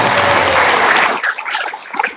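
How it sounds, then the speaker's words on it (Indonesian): Audience at a religious talk in the Al-Hikmah musholla at Taman Suko Asri breaks into loud applause, a dense burst of clapping that cuts off abruptly after about a second, leaving scattered claps. "Tepuk tangan untuk kita"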